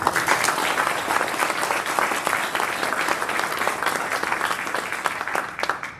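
An audience at an Army Futures Command birthday celebration gives a dense, even round of applause that fills the whole stretch at steady loudness before tapering off at the very end.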